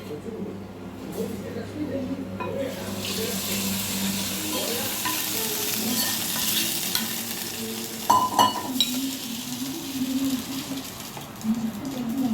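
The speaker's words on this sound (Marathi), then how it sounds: "आपण ह्याच्यामध्ये ते फोडणी घालून घेऊया" Hot oil sizzles and crackles steadily up close as a tempering of spices is added, with a brief louder spit and pop partway through.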